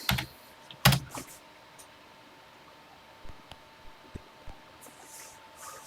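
Typing on a computer keyboard while entering a TI Extended BASIC type-in program, a few sharp close key clicks at the start, then sparse, quieter keystrokes over a steady faint hum.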